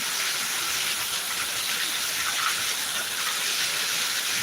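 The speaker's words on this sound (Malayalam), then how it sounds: "നല്ല മഴ" Steady, heavy summer rain in Kerala pours down in a dense, continuous hiss with no pauses, loud and close throughout, during a thunderstorm.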